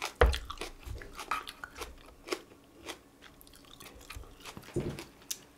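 Close, wet chewing and crunchy biting of fried chicken with raw green onion, irregular bites and mouth sounds, fairly quiet with no talking.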